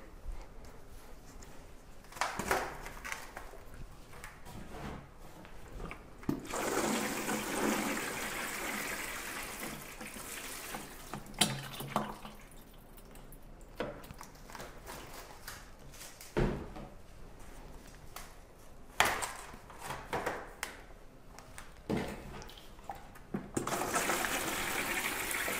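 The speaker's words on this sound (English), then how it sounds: "we'll give them a quick bottom watering" Water is poured into arugula microgreen trays for bottom watering, producing intermittent splashing and trickling bursts with some handling knocks, close and fairly quiet.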